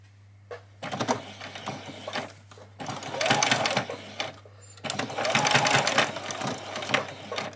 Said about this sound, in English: I'm just going to come across here and I'm going to stitch this across.